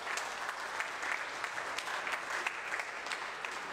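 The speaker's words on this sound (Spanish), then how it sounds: "Un aplauso al de 15 meses." Applause from a church congregation at a Christmas homily fills the space, a steady patter of many hands clapping for several seconds without a break.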